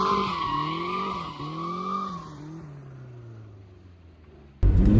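Mazda Miata drifting through figure-8 transitions, its tires squealing loudly in a long wavering skid with engine drone beneath, the squeal bending as direction shifts, then fading before a sudden loud thump at the end.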